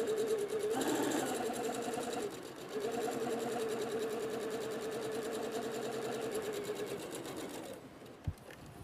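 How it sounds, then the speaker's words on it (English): A sewing machine runs fast and steady, stitching a fabric face mask with a continuous mechanical whir, pausing briefly once before resuming and stopping near the end with a small knock. "Now that I've stitched my mask together"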